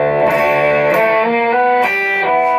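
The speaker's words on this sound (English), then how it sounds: "I'd flick to the middle pickup and put on the turbo distortion and it went kind of a bit more mellow and fuzzy" Electric guitar on its middle pickup through a turbo distortion pedal, playing sustained fuzzy, mellow chords with re-struck attacks about every second, loud and alone.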